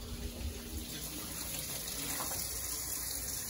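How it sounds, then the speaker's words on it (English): Hands rinsed under a running kitchen tap while cooking fish: a steady, close rush of water splashing into a sink, continuous and even throughout with no talk. "Rinse off the hands so we don't cross-contaminate."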